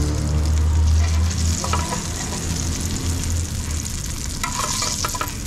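Small dried shrimp sautéing in plenty of oil for a Filipino vegetable dish, a steady close sizzle with a low rumble and occasional stirring clinks, no voices.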